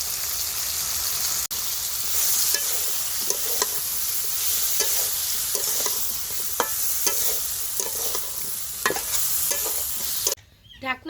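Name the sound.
cauliflower stirred and frying in spiced oil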